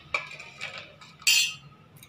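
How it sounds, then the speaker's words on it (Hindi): Spoon scraping and clinking in a bowl while spices and Kashmiri red chili are mixed into a paneer tikka marinade, a few soft scrapes followed by one sharper clink, close and alone. "और ये अच्छे से मिक्स करके"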